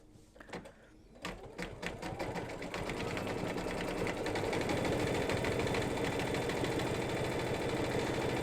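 An embroidery sewing machine stitches soccer ball details in black thread, its steady mechanical whir and rapid needle clatter building after a few sharp knocks and holding loud and continuous close by.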